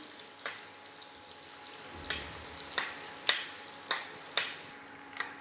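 Onions, chilies, ginger and garlic frying in a pan, a soft continuous sizzle punctuated by regular sharp taps of a utensil against the pan, about one every half second in the latter part.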